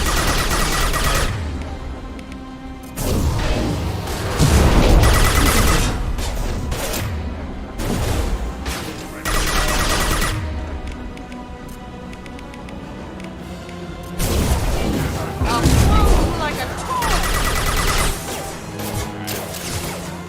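Weapon fire and explosions in the Mass Effect 2 video game, heavy bursts of shooting and crashing blasts arriving in loud waves separated by quieter stretches of combat noise.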